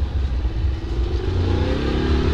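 Motorcycle engine revving as the bike slips in mud on a trail: a loud, close, rough low engine drone with uneven surges and clatter, continuous throughout.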